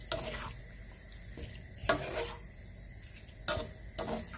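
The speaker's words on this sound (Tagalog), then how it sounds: "Ngayon, haluin lang po natin." A spoon stirs pork adobo in a pan with Worcester sauce, peppercorns and bay leaf, giving a few soft scraping knocks against the pan at irregular intervals over a faint background hiss.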